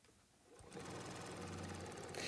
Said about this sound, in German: wird der Beleg mit einem Geradstich und einem Zentimeter Nahtzugabe an die Ausschnittkante genäht.